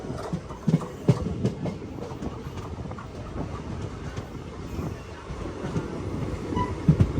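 The Sabari Express runs on a track near Shoranur, heard from inside the train as a steady low rumble with clickety-clack wheel beats and occasional louder knocks.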